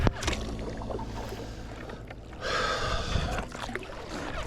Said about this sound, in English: The water is calmed down, so it's kind of a good time for kayaking.